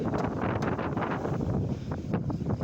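Strong typhoon wind batters a farm during Typhoon Uwan, a steady, loud broadband roar with gusty surges across the whole stretch and no clear voices.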